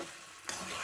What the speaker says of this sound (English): Now add the pasta. Mix it.